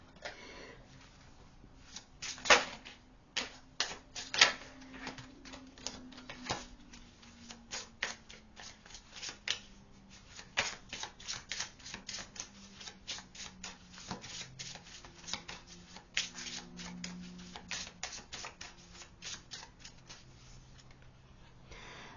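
Tarot cards are shuffled and handled at close range, with soft papery riffles and flicks that continue steadily for more than twenty seconds at low volume.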